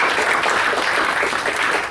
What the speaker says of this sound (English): So please give this big hand and big claps to